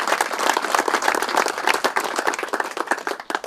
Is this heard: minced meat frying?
no